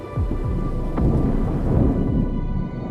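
Thunder rolls from a lightning storm over Lake Maracaibo in Venezuela: a loud, continuous low rumble with deep booming swells, heard alone without voices.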